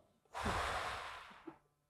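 A single deep breath taken during a guided relaxation exercise: one long, quiet, airy exhale that fades out gradually, heard up close and alone.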